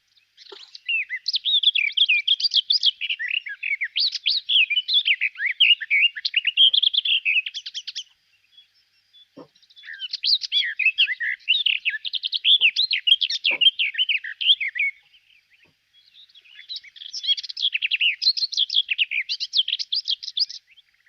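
A garden warbler sings three long, fast, bubbling warbled phrases, each several seconds long and separated by short pauses, clear and fairly close with no voices.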